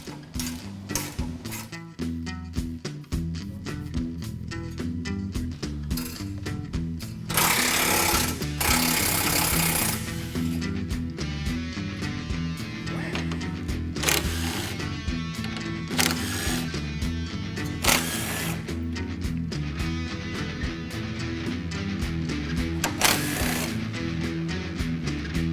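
Bolts coming off the radiator support of a 2015-2022 Ford Mustang: a steady stream of rapid impact-gun rattling runs through the whole stretch, with a few louder broadband bursts in between and no talking.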